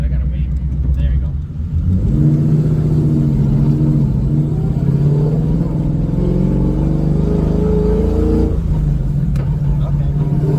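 A Coyote-swapped Ford GT500 with a T56 manual gearbox revs loudly to high rpm, its engine note climbing steadily through shifts made without the clutch, then dropping off near the end; close, sustained and dominant with no talk over it.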